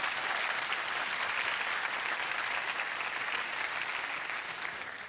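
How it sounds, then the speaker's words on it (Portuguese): Steady, dense applause from a studio audience at a television talk show, loud and sustained without a break. "Salve palmas pro Ju, que ele merece."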